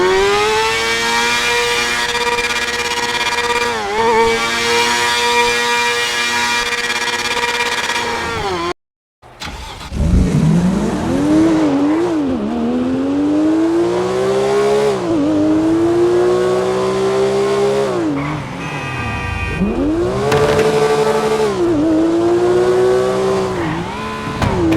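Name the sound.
car engine sounds in the video game GTA 5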